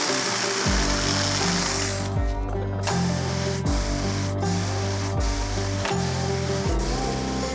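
A battery-powered 4-inch mini chainsaw cuts through wood, its motor whining loud and steady, with repeated dips and surges in pitch as the chain bites into each cut and frees up, one after another.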